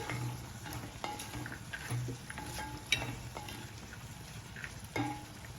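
Salted sprouted green peas fry in oil under a quiet, steady sizzle, while a spoon stirs them with scattered scraping clicks and light taps against the pan.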